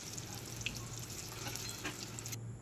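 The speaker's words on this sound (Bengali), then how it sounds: "তেলের মধ্যে দিয়ে আমি ওই বলগুলো ভালোভাবে ভেজে নেব" Raw banana kofta balls fry in hot mustard oil, a soft, steady sizzle with faint crackles and a few small pops, quiet and continuous.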